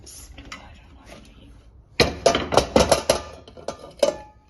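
Soft, cooled khaman dhokla is moved onto a plate with a burst of close clattering and tapping of utensil against dish, several sharp knocks after a quiet start.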